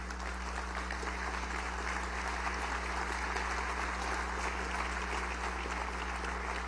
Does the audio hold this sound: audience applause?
yes